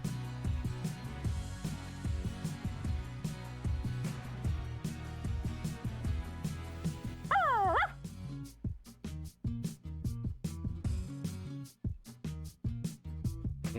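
Cartoon puppies in the Barbie's Puppy Rescue video game yip, bark and whimper in short bursts over cheerful background music, with a rising whine partway through.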